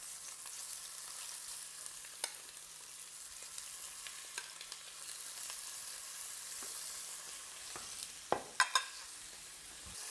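Chicken pieces sear in hot oil in a pan, a faint, steady sizzle with occasional small pops and a couple of sharper clatters near the end.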